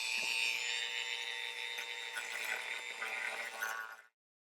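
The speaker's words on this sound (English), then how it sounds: "I think I'm done with the sanding and shaping" Sanding and shaping a repaired ABS plastic part from a Sega OutRun arcade machine with a small rotary tool, a steady high whine that runs continuously for a few seconds, close, then stops abruptly.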